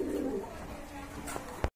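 Pigeons coo in a low, soft warble near at hand, a few rolling calls at the start followed by quieter murmuring and a brief sharp knock just before the end.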